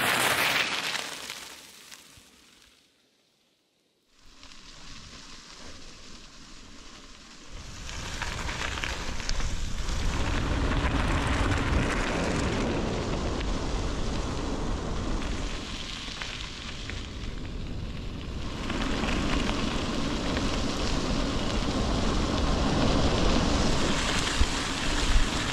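Heavy rain pours down on a long-distance cycling trip through Sweden. After a brief hush, a loud, dense, roaring hiss sets in and stays steady, with a gusty rushing edge and no talk.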